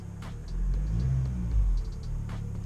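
A Vauxhall Corsa fitted with a Cobra Sport exhaust gives a brief rev: a deep, booming exhaust rumble swells up, holds for about a second, then drops back to a low idle burble. It is close and loud.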